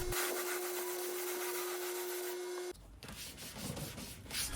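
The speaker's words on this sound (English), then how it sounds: "I use a 400 grit sandpaper" Furniture from a French Provincial bedroom set being sanded by hand with 400 grit sandpaper, a steady close rasping rub with a brief break near the end.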